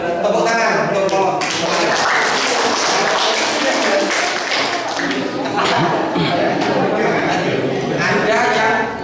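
Audience applause at an Indonesian police outreach session, dense clapping continuing steadily throughout and fairly loud, with voices mixed in.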